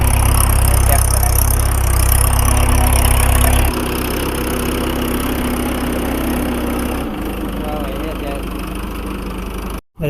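A loud tractor engine idles with a heavy low rumble, then settles into a steady, slightly lighter drone while a voice talks faintly over it.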